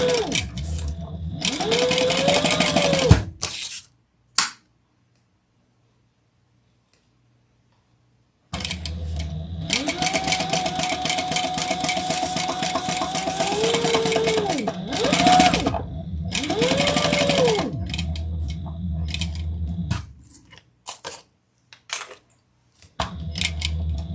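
A sewing machine stitches fabric in several long whirring runs, its motor rising and falling in pitch, with a distinct silent pause between bursts and a few short stutters of stitching at the end.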